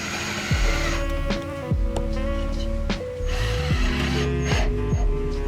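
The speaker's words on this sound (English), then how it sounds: "There's Nando drills holes." A power drill bores holes to mount a car body kit. Several short whirring bursts each spin up and wind down, close and loud, with brief pauses between them and no talk.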